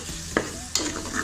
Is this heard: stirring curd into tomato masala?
yes